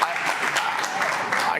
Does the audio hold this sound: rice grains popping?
no